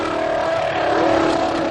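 A Honda Formula 1 engine revs hard and holds near 18,000 RPM, bouncing off the rev limiter in a loud, sustained, steady scream with no talk over it.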